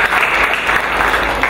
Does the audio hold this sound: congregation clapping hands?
yes